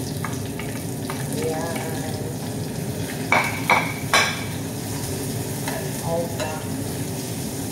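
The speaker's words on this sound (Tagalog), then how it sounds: "Ginigisa ang sibuyas." Onions sauté in a pan for a sardine dish, a constant close sizzle broken by several sharp spatula scrapes and clinks against the metal, while a voice speaks briefly over it.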